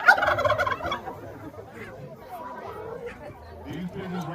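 Turkeys gobbling on a farm, a loud burst of rapid gobbles at the start followed by softer, scattered gobbles and fowl chatter nearby, with people talking in the background.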